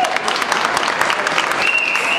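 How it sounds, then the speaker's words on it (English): A loud, dense burst of audience applause at an elementary school's 100-year celebration at Grand Prospect Hall, steady clapping from a large crowd with a faint voice underneath. "round of applause. Thank you."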